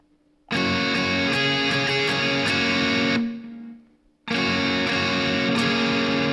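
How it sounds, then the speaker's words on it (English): Distorted electric guitar chords on three strings ring out loud and sustained, fading briefly before the strum kicks in again. "Now at this point, we'll just start strumming those 3 strings"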